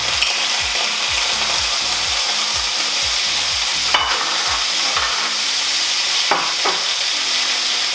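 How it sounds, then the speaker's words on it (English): Octopus sears in smoking hot oil in a pan, a loud continuous hiss and crackle with a rapid train of rhythmic scraping strokes and a couple of sharper spatters, no voices. "Proper sear, nice and hot. Moisture's gonna come out."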